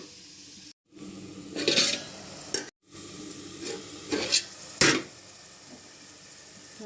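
Prawn, vakkaya and drumstick curry cooks in a pan with a soft sizzle. A spoon scrapes and stirs in several short bursts, separated by two brief silences.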